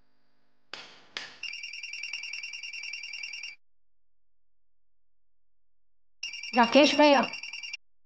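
A telephone rings in two electronic bursts, near and fairly loud, with a short spoken call breaking in over the second ring.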